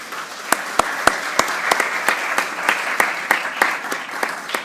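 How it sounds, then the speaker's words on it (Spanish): Audience applause at a film talk with a filmmaker and journalist, a steady crowd clapping with sharp individual claps standing out, fairly close and continuous throughout. "Pablo Marín, para quien pido un gran aplauso."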